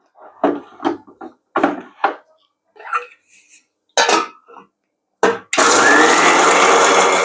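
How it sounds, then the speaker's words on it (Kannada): Mixer grinder pulverising spices into North Karnataka style sambar powder, starting abruptly after a series of short knocks and taps and running as a loud, steady whirring roar to the end. "ಮಿಕ್ಸಿ ಜಾರಕ್ಕೆ ಹಾಕಿ ಪೌಡ್ರ್ ಮಾಡ್ಕೋತೀನಿ ರೀ"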